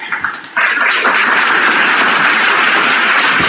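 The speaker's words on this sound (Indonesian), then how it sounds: "Siapa yang tepuk tangan?" Hand clapping breaks out loudly and continues as a dense, sustained patter of many hands, with no talk over it.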